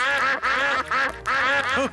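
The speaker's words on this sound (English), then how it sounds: "Here come more ducks." Cartoon ducks in Peppa Pig quack loudly and close in a rapid run of four honking calls, the Granny and Grandpa ducks and the aunties and uncles flocking in together.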